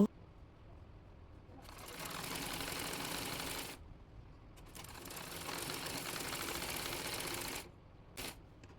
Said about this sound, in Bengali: নিচে লেসটি সেলাই করে নেব।